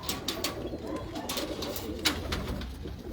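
Pigeons of a well-known royal-blood breed kept in Gujrat coo softly and repeatedly at close range, with low murmuring calls and a few brighter bird chirps over a steady background.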